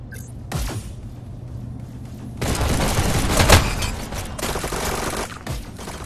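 Shotgun blasts in a VR shooter game, a loud burst of heavy gunfire with booming reports after a quieter stretch.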